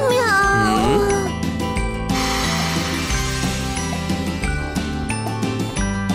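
A cartoon cat gives a single high, gliding meow at the start, set against busy, bright children's music with jingling percussion.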